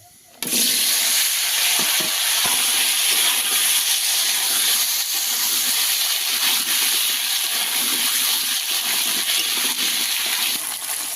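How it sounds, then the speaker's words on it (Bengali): Potatoes and taro frying in oil in a wok, a loud, steady sizzle with a bright hiss throughout after a sudden start, with occasional stirring scrapes and no talk. "আলু আর কচুটা ভালো করে ভেজে নেবো"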